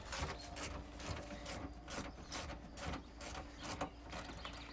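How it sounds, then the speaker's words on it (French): Ratchet unscrewing the front bumper bolts on a Peugeot 207, a quiet, rapid series of clicking pawl ticks repeating in short strokes, close and steady. "On va déposer ça tout de suite au cliquet, en aveugle"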